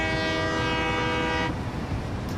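A train horn in the video game Satisfactory blares as one loud, sustained, tonal blast over rumbling rail noise, then cuts off, leaving the train rolling on.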